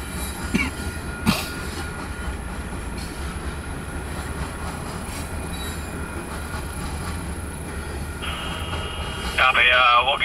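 A KCS freight train led by locomotive 4036 rumbles steadily as it departs near Harlem, with a couple of sharp clanks early on and wheel squeal rising near the end; radio chatter is faintly audible.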